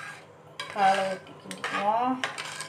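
Metal spoon scraping and clinking against a pot while white millet pongal with milk is stirred, a few close, bright scrapes and knocks over a quiet kitchen background.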